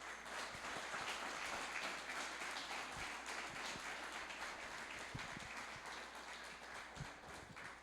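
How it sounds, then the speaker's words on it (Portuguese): Quiet, distant congregation clapping in praise during a Brazilian church service, a steady wash of applause running throughout. "Que as palmas louvem ao Senhor."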